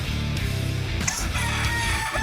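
Pet roosters crow and cluck loudly and close by, their calls layered over a busy, dense background.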